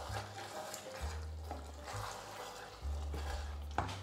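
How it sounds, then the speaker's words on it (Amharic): Stew for an Ethiopian alicha is sautéed and stirred in a pot. Faint sizzling runs under soft repeated scraping and clinking strokes from a spoon, close and quiet, with no talking. "አብረን በደንብ እያቁላላነው ነው።"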